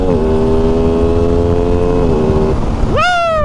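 An Aprilia Tuono motorcycle of about 700 cc, A2-licence class, holds a steady, buzzy engine note before a quick rising rev climbs sharply near the end, loud and close.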